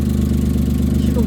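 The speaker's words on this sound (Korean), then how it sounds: "이거는 지금 소음기가 문제가 돼서 시끄럽고요." A car engine idling loudly because of a faulty muffler, a steady low rumbling drone heard up close.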